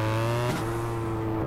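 A stolen BMW R1200 motorcycle drifts in GTA San Andreas, its engine holding a steady loud drone with a brief dip and shift in pitch midway, close and continuous with no talk.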